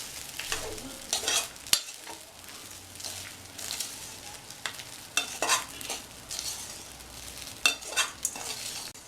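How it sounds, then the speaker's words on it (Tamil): Cooked rice is stirred through a hot pan, giving soft, steady scraping and turning strokes over a faint sizzle, close by, with occasional sharper clicks of the spoon and no voices. "சேர்த்துட்டு நல்லா மிக்ஸ் பண்ணி விட்டுருங்க."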